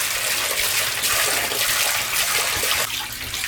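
Water drains steadily out of a shallow well pump's pressure tank, a continuous close rushing gush that holds level for the whole stretch with no voices over it.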